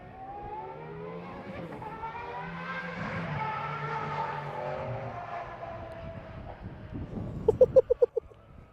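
Aston Martin Valkyrie at speed down the back straight of a private track, its loud engine note swelling and then fading as it passes, with heavy wind buffeting the microphone and a few sharp gusts near the end.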